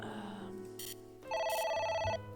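A telephone rings in the video game AI: The Somnium Files 3, an electronic ringtone with a repeating bright trill, loud and close, following softer game tones and a short chime.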